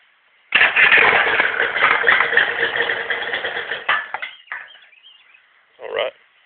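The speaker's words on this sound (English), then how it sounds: "I'll start it up for you, let you hear it run." A 1991 Yamaha 30 hp outboard motor jump-starts and runs, a loud steady engine drone for about three seconds that cuts off, followed by a few short mechanical clunks.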